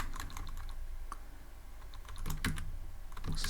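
Keys clatter in quick, irregular bursts on a computer keyboard while entering button state code, close and clear against a faint room hiss, with no talking.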